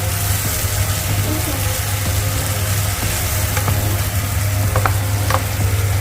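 Steady close sizzle of egg frying in a pan of hot oil for a potato omelette curry, continuous throughout with faint scattered clicks and a low hum underneath.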